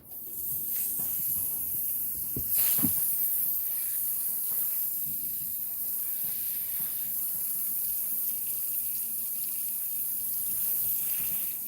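Avocado plants being watered outdoors, a steady, close hiss of running water that continues for about twelve seconds with a brief louder splash early on.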